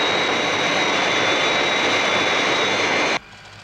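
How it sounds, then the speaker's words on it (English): The Fireflash aircraft from Thunderbirds approaches a runway with a loud, sustained jet roar and a high whine that cuts out abruptly near the end. "Aircraft on glide path 3 miles to threshold."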